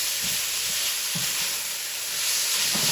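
Scallops seasoned with salt and dry herb rub sear in a pan, a steady hissing sizzle with soft periodic stirring thumps beneath it.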